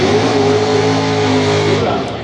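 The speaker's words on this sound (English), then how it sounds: "He said he had to burn out." A drag race car, a Monte Carlo or Trans Am, roars through a burnout with a loud sustained engine drone and tire noise at the strip, steady and close before easing off at the end.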